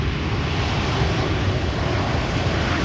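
Boeing 787 Dreamliner airliner landing at Amsterdam Schiphol Airport, a steady broadband roar of jet engines and wind rushing, loud and continuous with no talking.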